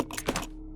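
Quick mechanical clicks and clacks of a gun being reloaded in Resident Evil 0, a short close sequence of a few taps that fades within a second.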